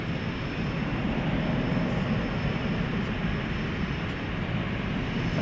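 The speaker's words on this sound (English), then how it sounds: "747-800 coming in from Frankfurt" A Boeing 747-8 jet arriving from Frankfurt at DFW Airport at night, heard as a steady, dense low engine rumble and broad airy roar, moderately loud and unchanging throughout.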